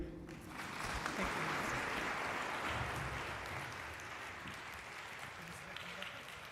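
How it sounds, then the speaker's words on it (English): At an engineering symposium, an audience applauds after a Deputy Minister's keynote address. The clapping swells quickly, holds as a broad, steady roar of many hands, then gradually fades toward the end, with faint voices beneath. "Another big round of applause there for that"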